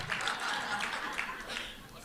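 Seminar audience at an Atomy business plan presentation clapping in a scattered, moderately quiet burst of applause that lasts about two seconds and carries some faint chuckles.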